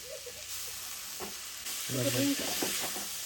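Noodles stir-fried in a pan with capsicum and cabbage, a soft steady sizzle with scraping and stirring of the pan near the listener, no talking.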